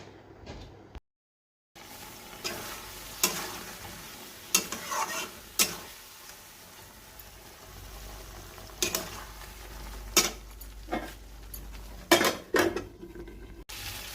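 Masala frying in a pan on a home stove is stirred with a spoon, soft sizzling running underneath repeated sharp scrapes and clinks of metal on the pan, with no talking.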